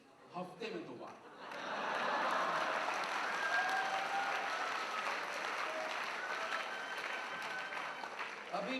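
A comedy show audience breaks into steady applause, a broad wash of clapping that rises after a short pause and holds evenly for several seconds with faint chuckles mixed in.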